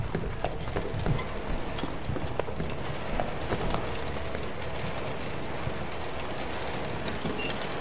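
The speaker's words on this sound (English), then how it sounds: "That's some really good rain effects." Steady rain falls in the video game This War of Mine, a dense continuous patter with scattered sharper drips, even and enveloping throughout.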